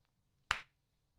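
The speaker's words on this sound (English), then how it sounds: "That was me clapping once." A single sharp hand clap in a quiet radio studio during a morning talk show, one crisp burst followed by silence, with the start of another sound cut off at the end.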